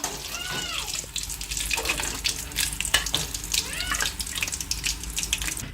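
Green chillies fry in a pan for a forest-leaf chutney cooked outdoors, a steady, fairly quiet watery crackle and hiss with scattered pops and a faint voice in the background.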